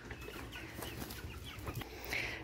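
Chickens and a rooster cluck and mutter close by while eating watermelon, soft overlapping calls over a quiet outdoor background.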